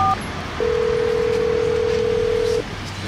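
Telephone keypad dialing tones: a couple of brief beeps followed by one long steady tone lasting about two seconds, clear and close with little else around.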